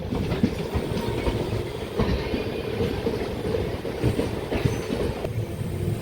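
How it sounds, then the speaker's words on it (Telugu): A local train running from Vijayawada to Machilipatnam rumbles steadily past, with rhythmic clickety-clack of wheels and faint metallic squeals, a continuous heavy rolling sound with no talk. "local train"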